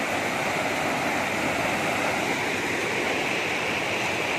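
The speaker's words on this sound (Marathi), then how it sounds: "काल या वाटेवरती ना पाणी नव्हतं आणि आज पाणी वाढलंय." A swollen stream of rainwater after heavy overnight rain rushes past close by, giving a loud, constant roar with no let-up and no voices.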